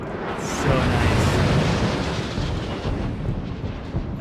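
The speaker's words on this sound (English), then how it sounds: "Look at the fireworks." Fireworks after a ribbon-cutting in the video game SimCity Cities of Tomorrow, a run of booming bursts and crackles that swells and then holds as a dense rumble, with a few brief whistling streaks early on.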